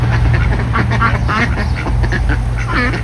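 Ducks quack repeatedly in a busy flock nearby, their calls overlapping over a steady low background hum.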